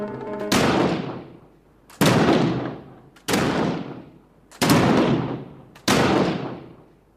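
Five loud, sharp gunshots from a musket and a rifle ring out one after another at roughly one-second intervals, each with a booming crack that trails off into a long fading echo.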